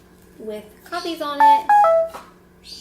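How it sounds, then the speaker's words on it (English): Mobile phone going off during a talk at home, a short run of bright electronic notification tones stepping up and down in pitch, loud and close, with a voice speaking briefly just before. "Sorry, that was my phone."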